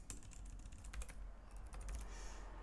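Fingers tap out an email address on a computer keyboard, a quick run of close, crisp key clicks in uneven bursts with short pauses, no voice.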